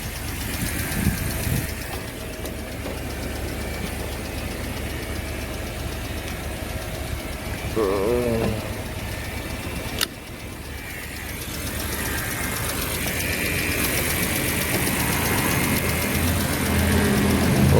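A BMW E60 5 Series engine idles steadily after being restarted from a dead battery, a close, continuous mechanical hum with a faint ticking knock, a brief click midway and slight revving toward the end, no voices.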